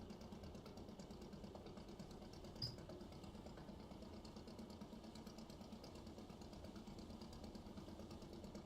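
A fishing boat's engine in the Barents Sea at full throttle in a fishing game, a steady, faint, low chugging drone with a fast mechanical pulse and one brief click.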